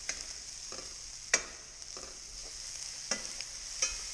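Egg breakfast scramble being stirred in a pan, with soft scraping strokes and a few sharper utensil clicks against the pan over a faint, steady sizzle.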